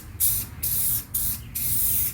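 Spray paint can laying light coats on the floor pan of a 1974 Dodge D100 truck, four close hissing bursts in a row with short pauses between them.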